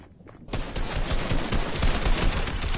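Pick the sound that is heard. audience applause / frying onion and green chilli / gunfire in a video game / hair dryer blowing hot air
gunfire in a video game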